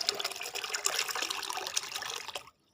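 Liquid fertilizer mixture is poured and stirred in a bucket, giving a continuous splashing gush of water up close that stops abruptly near the end.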